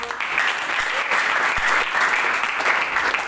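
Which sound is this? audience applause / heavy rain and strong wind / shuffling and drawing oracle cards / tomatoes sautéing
audience applause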